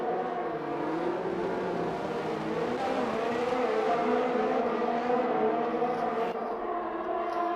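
Formula 1 race cars in the F1 2021 video game give a continuous, loud, high-pitched engine whine, with several cars' tones overlapping and shifting pitch as they race past one another.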